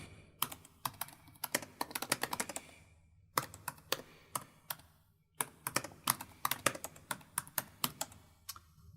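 Keys clatter on a computer keyboard as a message is typed into job-dispatch software, coming in quick irregular bursts with brief pauses, close and fairly quiet, with no talking.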